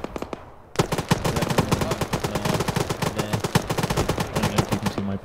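Automatic-weapon fire from teammates in the video game Joint Operations: a few scattered shots, then a dense, rapid burst of repeated gunshots that continues loud and close to the end.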